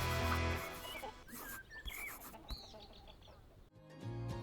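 Chickens give a few scattered, faint clucks and chirps amid background noise, with no one talking.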